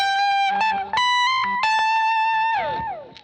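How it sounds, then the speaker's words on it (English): A sustained, distorted electric instrument line of held notes and quick shifts, drenched in effects with a lingering, washy tail as it slides down. "Chroma Verb for a bigger reverb"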